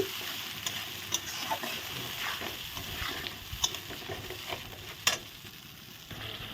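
Cumin, ginger and green chilli paste sizzle in a hot pan for a spicy eggplant dish while a spoon stirs and scrapes, with occasional sharp clinks over a steady close frying hiss.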